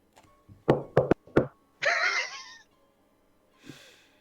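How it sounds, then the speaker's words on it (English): Loud knocking on a door, four sharp raps in a quick uneven cluster, followed by a breathy voiced sound and a faint later breath. "Mads is going to loudly knock the exact same way she knocked before"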